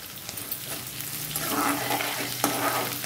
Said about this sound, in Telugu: ఎండుమిరపకాయలు బాగానే వేగిపోతాయి, శనగపప్పు వేగదు కనుక అందుకని ముందు శనగపప్పు వేసాను.